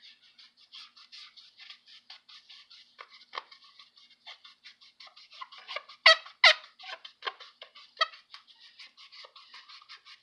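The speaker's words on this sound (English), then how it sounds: "You're just rubbing a rag across it and you'll hear the squeaking." A rag rubbed over a candy apple with its wax removed makes rapid, rhythmic squeaks, a close series of short chirps with a few louder squeals in the middle.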